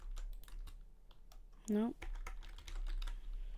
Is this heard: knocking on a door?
no